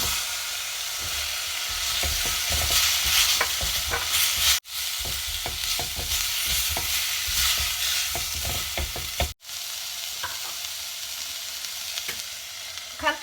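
Carrots and celery stalks stir-fried in a pan for a Thai glass-noodle shrimp bake, with a steady loud sizzle and repeated scraping, clicking strokes of a utensil throughout. Two brief full cutouts interrupt it.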